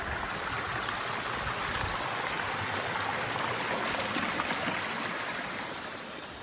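Mountain stream of flowing water on the Binsar Mahadev route in Uttarakhand, a steady, dense rush and gurgle that stays constant and close throughout, with no voices.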